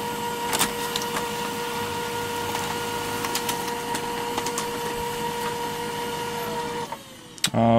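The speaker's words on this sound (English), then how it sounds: "And now we're going to print this page again, but this time, yes, we want to do fine graphics over here." A Brother laser printer prints a page on photo paper, a steady mechanical whir with a constant tone and small ticks, ending in a final clunk and paper shuffle as the sheet feeds out.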